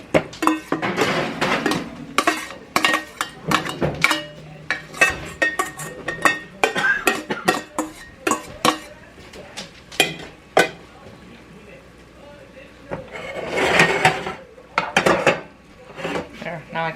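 Ingredients for pan-fried chicken parmesan get mixed in a bowl: repeated close scraping, clinking and knocking of a utensil against the bowl in uneven bursts, with faint talk at times.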